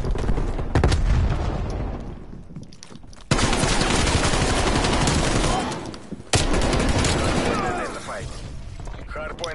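Video game Hardpoint match with loud, dense gunfire and heavy bursts, a grenade thrown amid the shooting, continuous and close with abrupt breaks between sections.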